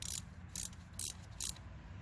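A ratchet tightens the bolts on a Honda Civic ignition coil. Four quick, crisp clicking bursts come at an even pace about half a second apart, close and fairly quiet, with no talking.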